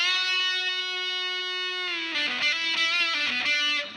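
An electric guitar through a Big Muff fuzz pedal plays a sustained fuzzy note alone, then a few choppier distorted notes with a thick, buzzing saturated tone.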